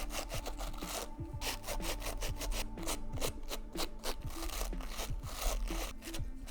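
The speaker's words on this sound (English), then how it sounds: "Then brush his face down nice and flat." A bristle brush strokes down the fuzzy yarn face of a crocheted Death's-head hawkmoth, making repeated close, soft scratchy swishes in a quick uneven rhythm, with no talking.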